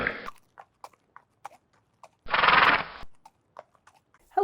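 Horses at a stable eat from filled hay nets, with scattered crunching bites and chewing, soft thuds of movement, and one long loud snort or whinny in the middle.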